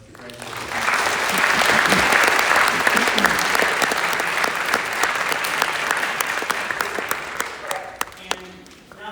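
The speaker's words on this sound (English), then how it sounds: "we have a round of applause for our graduates" An audience at a Gates Chili, New York high school music awards night applauds the graduating seniors. The clapping swells quickly, holds as a dense, sustained roar, then thins and fades near the end.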